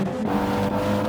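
Racing car engine from a wet GT4 race in a racing video game, a Red Bull Audi TT coming around the final corner, droning steadily and loudly throughout with a constant mechanical tone and no pauses.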